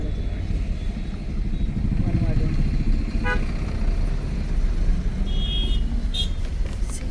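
Busy road traffic in Pune, with engines rumbling continuously and a couple of short car horn toots cutting through, while people talk nearby over the noise.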